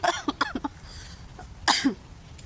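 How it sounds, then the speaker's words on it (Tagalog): A few short, close coughs come in quick bursts, then a pause and one more harsh cough. "Inuubo ako"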